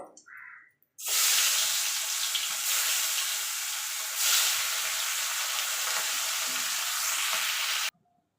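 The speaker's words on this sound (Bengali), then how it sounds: "এভাবে বাকি মাছগুলো আমি ভেজে নেব" Loud, steady sizzle of fish frying in a pan starts abruptly and crackles continuously for several seconds close by, then cuts off sharply.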